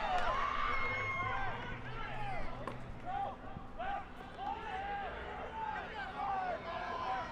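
A rugby crowd at a high school state championship at Infinity Park shouts and cheers in a steady, distant roar, with a commentator talking over the noise throughout.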